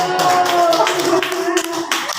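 Audience of parents clapping at a school presentation on positive culture, a brief burst of loud, close handclaps over a hum of room noise with a voice briefly audible.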